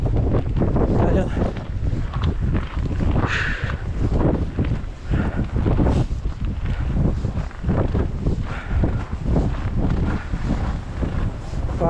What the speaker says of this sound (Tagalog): Masyado sa mahangin.